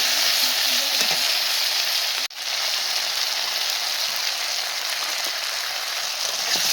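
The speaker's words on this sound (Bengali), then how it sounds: "দিয়ে ভালো করে এখন নাড়াচাড়া করে মিশিয়ে নিচ্ছি।" Potatoes and taro sizzle steadily in a frying pan as they are stirred with salt and turmeric, a loud continuous broadband crackle with a brief dropout near the middle.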